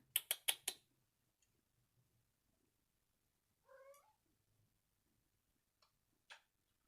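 A cat gives a soft, short trilling coo, alone in a quiet room, after a few quick ticking clicks near the start and another faint chirp later.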